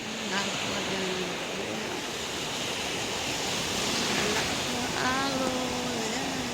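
Ocean waves wash steadily onto a shallow beach in the morning, a constant close rushing surf with a few faint voices in the background.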